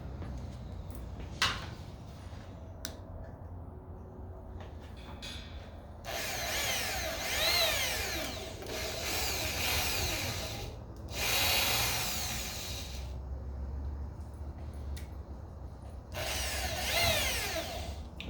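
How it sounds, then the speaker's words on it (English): A power drill whirs in several loud bursts of a few seconds each while building a squat rack, separated by quieter pauses with small clicks and handling noises. "Try to make this drilling as exciting as possible."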